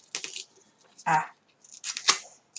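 Scissors snipping through sticky double-sided tape while making a paper Advent calendar, a few short crisp cuts with brief gaps between them, close and fairly quiet, mixed with faint talk.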